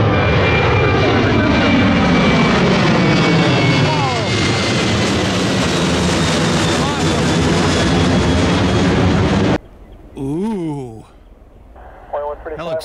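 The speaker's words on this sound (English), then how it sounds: "That looks like a Army attack helicopter." An AH-64 Army attack helicopter flies overhead near an airfield, its loud rotor and engine roar dominating steadily for about ten seconds before cutting away to quieter sound with voices talking.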